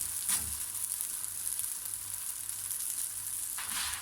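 Msemen flatbread fries in a pan with a steady, soft sizzle throughout, close but fairly quiet, with a couple of brief louder crackles and no talking.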